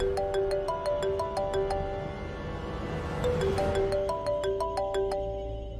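A melodic phone ringtone plays a repeating chime pattern, bright and fairly loud, looping twice over a low background hum.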